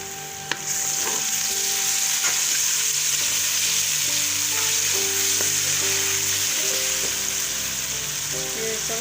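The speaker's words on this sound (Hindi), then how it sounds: "प्याज हमारा फ्राई हो गया है, और मैं लहसुन अदरक पेस्ट शामिल कर रही हूँ।" Garlic-ginger paste frying with onions in a pan for a chicken and green peas curry, a steady loud sizzle with occasional stirring scrapes running throughout, no voices.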